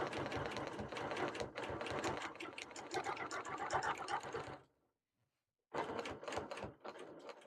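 Domestic sewing machine stitching in the ditch along a quilt panel, a steady rapid needle chatter running for several seconds, stopping briefly, then starting again, close and loud with no talk.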